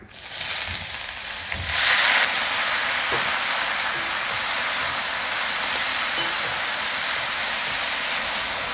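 Chopped palak spinach and small shallots go into a hot pan, setting off a loud, steady sizzle with a brief hissing surge as they land, continuing evenly with no talking.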